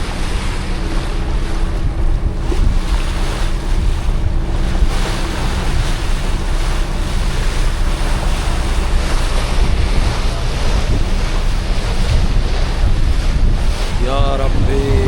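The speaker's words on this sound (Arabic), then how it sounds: "مع صوت المية وصوت الهواء كده" Water and wind on Lake Como heard from a moving boat: a loud, steady rush of waves and spray mixed with heavy wind buffeting against the microphone, continuous throughout with no clear voices.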